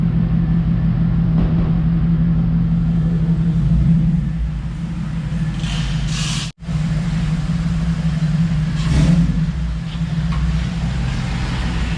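A 1995 Ford Lightning pickup truck cruises along with a loud, continuous engine and road rumble heard from inside the cab, which briefly dips and returns midway.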